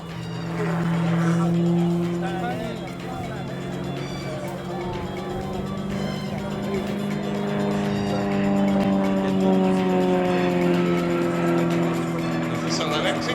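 An Extra 330LX aerobatic plane in a flying display at RIAT performs a climbing slide and torque roll, its engine droning steadily with a shifting pitch throughout, loud and continuous.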